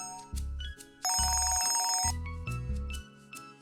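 A telephone ringtone in a Malayalam comedy serial scene plays loud and up close, a melodic electronic tune whose repeating bursts start and stop across a few seconds, with no talking.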